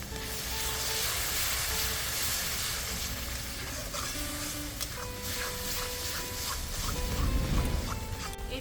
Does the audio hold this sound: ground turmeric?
yes